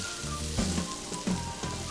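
Chopped onion sautéing in a pan as the base for an asparagus risotto, a steady close sizzle with a couple of brief stirring scrapes and no talking.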